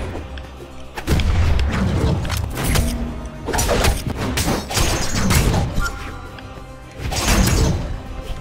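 A loud bomb explosion from the fighting game Brawlhalla booms and crackles, followed by further heavy thuds and blasts in a dense, continuous stretch of game noise.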